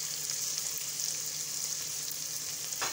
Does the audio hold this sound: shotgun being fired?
no